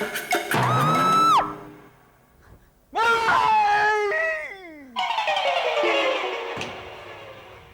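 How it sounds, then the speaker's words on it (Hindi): Three loud, separate bursts of shrill, wavering vocal sound, likely screaming, with brief pauses between them, up close and with no other talk. "तुमने किसी की चीखने की आवाज सुनी?"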